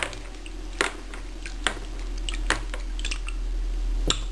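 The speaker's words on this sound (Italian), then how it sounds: "Quindi sciacquiamo un po' in acqua" A metal wire jewelry piece is rinsed in a dish of water, giving soft sloshing and dripping with a few sharp clinks and splashes spaced through a quiet background.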